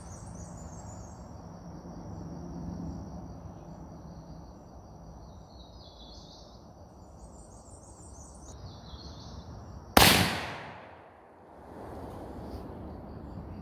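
A BFR revolver chambered in .500 Magnum fires a single very loud, sharp shot with a ringing decay while being sighted in outdoors, set against a steady background of insects and birds.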